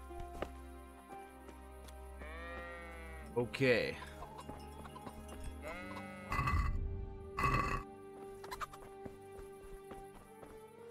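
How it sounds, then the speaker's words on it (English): Several sheep bleat in short, wavering calls in the video game Kingdom Come: Deliverance over a quiet background, with a brief spoken word and scattered clicks in between. "that's a sheep."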